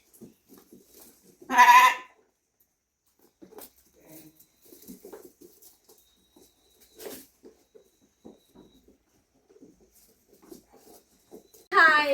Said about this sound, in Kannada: ನೋಡಿ ಇವೇ ನೋಡಿ ನಾವು ತಂದಿರೋ ಕುರಿಗಳು